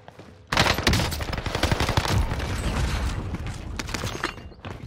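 Rapid, sustained submachine-gun fire from the Marco 5 SMG in Call of Duty on Fortune's Keep, bursting in loud and close after a brief quiet start and rattling on densely to the end with no talk.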